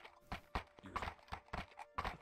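Horse hooves clip-clop in a steady walking rhythm, close and distinct, as a sound effect in a fantasy drama episode; the hits fall evenly with no voices over them.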